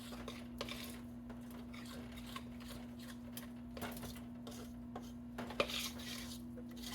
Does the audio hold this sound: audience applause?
no